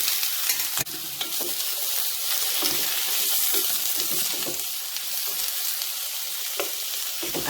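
Frozen carrots and green beans sizzling and crackling steadily in a dry saucepan, a close, continuous hiss with occasional stirring clatter.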